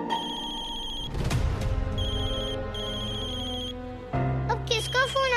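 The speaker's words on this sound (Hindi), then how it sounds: "अब किसका फोन आ गया?" A phone ringtone plays as a steady electronic melody with repeating tonal bursts, accompanied by background music and a brief rise in activity near the end; no speech is heard over it.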